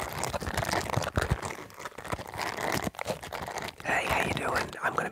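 A Hairy Grabster shower hair catcher is handled close up, giving dense crinkling, scratchy rustling and crunchy textured sounds with whispery breaths mixed in.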